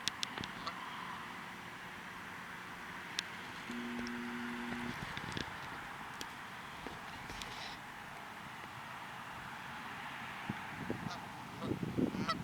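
Geese honk in short, scattered calls at moderate distance, mixed with low rustling and occasional thumps outdoors.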